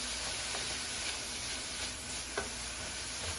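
Ground beef fries and browns in a pan, a steady close sizzle with faint stirring scrapes, continuous and alone without voices.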